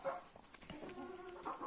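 Chickens in a backyard flock of about forty birds, several molting, give soft scattered clucks and calls at close range, with low farmyard rustling underneath.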